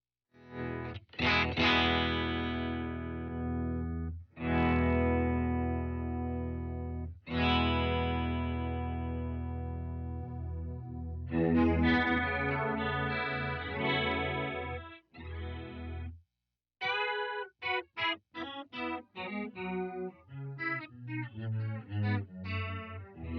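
An electric guitar runs through an Electro-Harmonix POG2 octave pedal with the detune effect and filter active, giving shimmering, doubled, chorus-like tones: sustained chords first, then quicker choppy stabs and picked notes, clear and alone with no talk.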